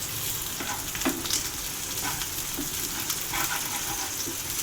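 Crab gravy stirring and sautéing in a pan, a steady, close sizzle and hiss of frying with occasional scrapes and clinks of the spoon, no talking.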